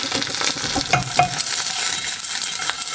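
An egg frying in a little oil in a pan with salt added, stirred as it cooks: a steady, close, bright sizzle and hiss, broken by a few scraping stir strokes, with no talking.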